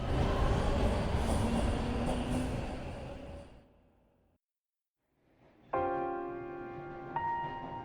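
Train in a video game, a loud rumbling run that fades to near silence, then a bright tonal chime or whistle-like signal sounds sharply; no voices.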